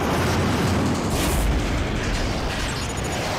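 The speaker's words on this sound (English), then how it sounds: "Enemy aircraft destroyed." A heavy, sustained explosion rumbles as an enemy aircraft is destroyed in the Ace Combat 3D flight combat game, with a dense, booming roar that swells near the middle and then slowly tails off.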